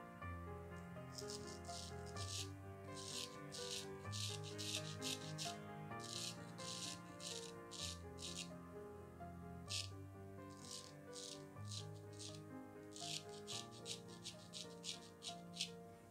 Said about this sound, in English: hopefully you can hear that razor. This one is really a nice singing razor.